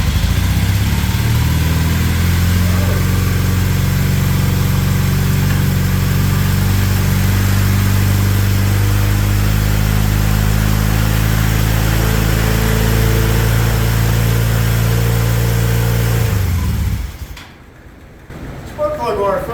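A Honda CB450 Nighthawk motorcycle engine runs loud and close with a steady, throbbing idle, then cuts out abruptly near the end before briefly sputtering again.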